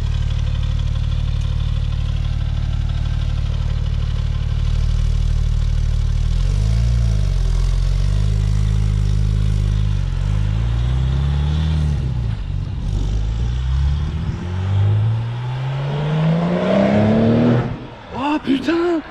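A tuned BMW engine, freshly remapped by Shiftech, idles loudly and then revs in rising, whining surges, with people talking over it.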